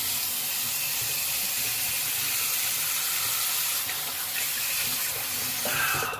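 Tap water running steadily into a sink while someone rinses off after a shave with bay rum, a constant close hiss with slight splashing changes toward the end.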